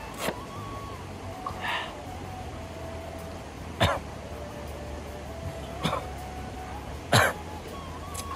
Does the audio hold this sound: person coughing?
yes